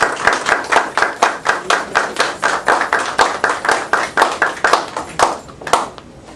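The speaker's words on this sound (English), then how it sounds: "I would like for us to just give her a great hand of applause" A small audience claps together in a fast, uneven rhythm, close and loud, the claps gradually thinning out and tapering off toward the end.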